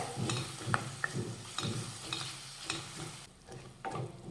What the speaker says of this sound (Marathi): या कांद्याबरोबर ही आलं लसूण पेस्ट सुद्धा परतून घेऊया